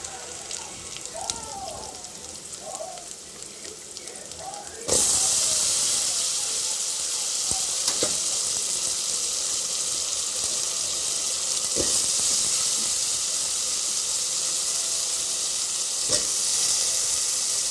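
Potato pieces and turmeric dropped into hot oil for a potato gravy curry: a quiet kitchen, then a sudden loud, steady sizzle and hiss that runs unbroken to the end, with a few faint stirring knocks.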